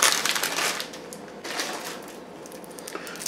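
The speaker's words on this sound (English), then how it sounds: "So you just gotta unwrap it." A milk candy wrapper is unwrapped up close, making crisp, crinkly rustling bursts that are strongest at the start and then come in a few shorter crackles.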